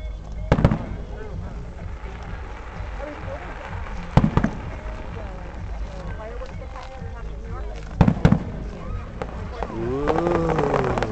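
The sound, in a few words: Fourth of July fireworks exploding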